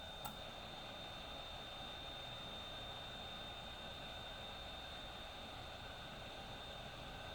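A hot air blower used to desolder a part from a 2002 Audi TT ECM gives a steady, faint whooshing hiss of airflow with a thin whine and a tiny click near the start, and nobody speaks.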